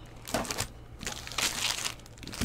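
Foil trading card packs from a 2021 Topps Series 2 Baseball jumbo box crinkle and rustle in bursts as they are handled and shuffled up close, with short quiet gaps between the handfuls.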